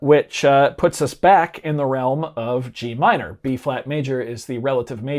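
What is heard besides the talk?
No everyday noises stand out.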